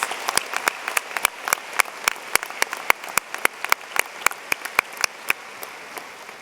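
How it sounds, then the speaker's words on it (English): A small number of people applauding at a 2016 high school graduation, with distinct, individual claps in an uneven, sparse rhythm, close and crisp, continuing for several seconds and thinning near the end. "Can we have another big round of applause for these impressive accomplishments?"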